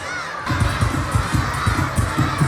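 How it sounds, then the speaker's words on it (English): Schoolchildren cheering and shouting at a sports day shuttle ball run, a lively crowd of young voices over rhythmic low thumping beats, close and steady after a quiet start. "I can see class 3 is cheering them as class 3 boys are there."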